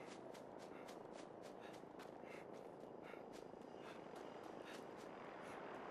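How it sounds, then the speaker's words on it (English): A Vertibird or cargo bot aircraft passes overhead in Fallout 76, a steady rotor-like drone with a rhythmic chopping pulse that holds at an even, moderate level throughout, with no talk. "I hear the vertibot or the cargo bot"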